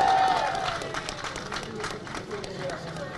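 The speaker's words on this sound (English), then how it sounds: "Can they have a great big round of applause?" A crowd claps and cheers for a young children's choir at an outdoor city holiday tree lighting. The sustained applause is fairly loud and fades slightly, with voices mixed in.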